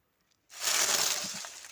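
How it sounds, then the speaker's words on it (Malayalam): Dry mango, jackfruit and guava leaves tumble into a pot for a potting mix, giving a close, dense crackling rustle that starts abruptly and stays steady for about a second before easing off. "ഇനി ഇതിനകത്തേക്ക് നമുക്ക് കരിയില നിറച്ച് കൊടുക്കാം"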